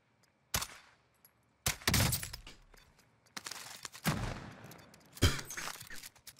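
Gunfire in Call of Duty Warzone: a few loud, sharp bursts of shots separated by short pauses, each trailing off in a brief echoing tail, with no talking.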